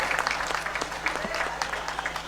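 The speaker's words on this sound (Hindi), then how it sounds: "जोरदार तालियों से आप इनका सम्मान करें" Crowd clapping at a public ceremony honouring a named woman, steady and fairly loud throughout, with a faint voice under it.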